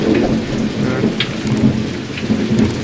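Heavy rain pours down outdoors in a village while thunder rumbles through it, a loud, continuous downpour close by with no voices.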